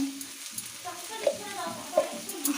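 Ghee sizzling in a pan with papaya ghonto, a soft steady frying crackle with a few brief sharper pops, close and moderately quiet, no talking.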